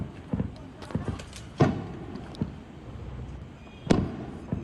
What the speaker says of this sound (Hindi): राजौरी शहर में कई धमाकों की आवाज आ रही है।